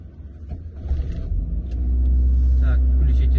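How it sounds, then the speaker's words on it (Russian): A car engine cranks and catches, then settles into a steady low idle during a winter driving lesson, loud and close from inside the cabin. "Заведите машину."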